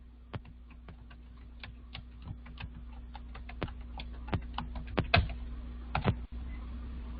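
Typing on a computer keyboard, a quick irregular run of sharp close key clicks over a low steady hum, no voices.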